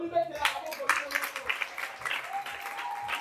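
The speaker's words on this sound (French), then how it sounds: "Alors applaudissez pour vous-même." Applause breaks out from a congregation on a missionary trip, a mix of scattered handclaps with voices and a sustained tone running underneath, fairly close and lively throughout.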